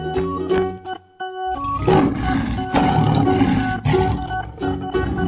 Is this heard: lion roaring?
yes